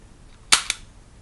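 A KJW P229 gas blowback airsoft pistol fires two quick, sharp, loud reports close by, the second following a split second after the first, with the slide snapping back each time.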